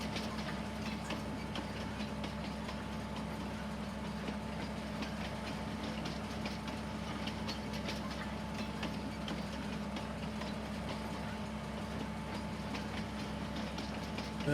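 A train ride in the video game Farming Simulator 19 on the Riesenbeck map: a steady, loud rumble and hum of the rail car runs continuously, with faint rhythmic ticking over it and no talk.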